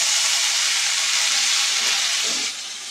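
Ginger, garlic and chili paste with cumin sizzles steadily in hot oil in a kadhai over a low flame, a loud continuous frying hiss that drops slightly near the end, with no voices.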